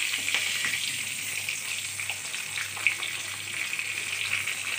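Green chillies, dry chillies and a bay leaf fry in hot oil, giving a steady, close crackling sizzle with small pops scattered throughout and no talking.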